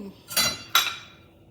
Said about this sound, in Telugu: ఈ పప్పు పులుసు ఇలా మిక్స్ చేసుకుందాము